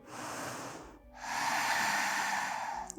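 Audible breathing during a yoga session: a long, airy breath that stops briefly around the first second, then a second, longer and louder deep inhale drawn in close to the microphone, without any speech.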